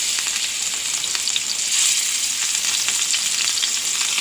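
Sardines frying in a pan of hot oil for a home lunch, giving a steady, dense, close sizzle with fine crackling spatters throughout and no talking.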